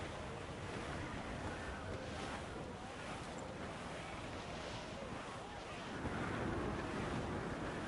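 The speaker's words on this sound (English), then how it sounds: "Dark skies and rough seas there!" Rough seas in a sailing-ship video game, with a dense, steady wash of surf and wind roaring throughout and swelling louder near the end, with no voices.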